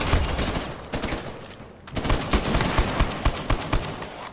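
Loud, rapid machine-gun bursts in Uncharted 4 multiplayer, a dense opening volley, a brief lull, then steady repeated shots close by.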